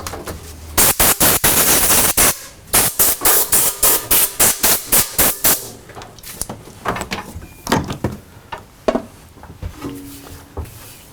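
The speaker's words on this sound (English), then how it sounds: "We're going to blow this area out of here." Compressed air blasting a machinery work area clean, loud close hissing bursts in a rapid stuttering series, then fading into scattered shorter puffs with some knocking.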